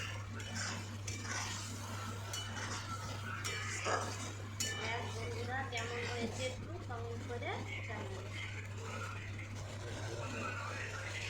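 Prawn masala with garam masala stirred in a pan, with faint clinks and scrapes of a utensil against metal over a low hum while a person talks.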